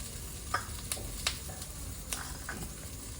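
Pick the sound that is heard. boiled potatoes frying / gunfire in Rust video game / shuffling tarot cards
boiled potatoes frying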